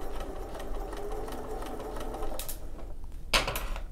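A sewing machine stitches binding onto a fabric edge with a running stitch, a steady close mechanical whir with a rapid needle rhythm, then brief louder clatters near the end.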